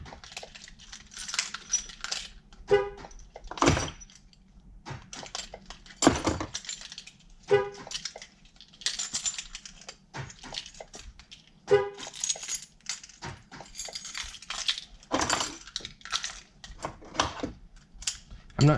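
Several Ford Transit keys and remote fobs clink and jangle as they are handled one after another, sharp metallic taps and rattles recurring in bursts over a low steady hum, close and moderately loud.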